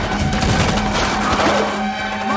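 Rapid bursts of automatic gunfire crackle continuously through a battle scene at a fortress gate, dense and loud with no pauses.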